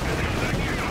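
Gunfire from units in the game Company of Heroes 2, a dense, brief, continuous clatter of rapid shots at mid-distance, with voices mixed in.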